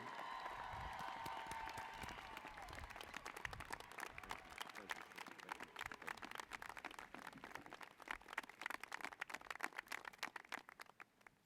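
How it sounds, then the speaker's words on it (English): A commencement audience at Radford University's 2017 spring ceremony gives a long, sustained round of applause: many hands clapping in a dense, crackling patter that builds steadily, with a voice briefly audible at the start, then tapers off at the close. "give him a big round of applause"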